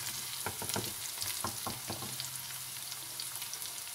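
Tomatoes go into onions frying in a pan for a potato and eggplant curry. A spoon stirs and clatters close up at first, then a soft, steady sizzle carries on alone.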